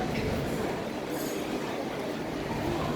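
A train runs on railway tracks below in Brisbane with a steady broadband rumble and hiss, heard from nearby above the line.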